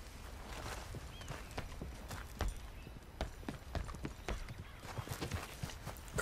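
Horse hooves clip-clop at a steady walking pace in the Red Dead Redemption 2 video game, faint and set against constant ambient game background noise.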